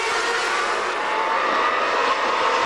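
GP2 race cars at Monza in 2005, sweeping through the Curva Grande toward the chicane, make a loud, steady high-pitched engine roar that holds for the whole stretch with no pauses.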